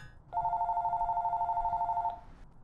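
A landline telephone rings with a steady electronic trill, one continuous burst of about two seconds, loud and close, with no talk over it.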